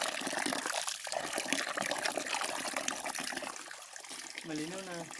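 Muddy brown water gushes steadily from a Jet Matic water pump into a bucket, a constant splashing pour, with a brief voice-like tone near the end.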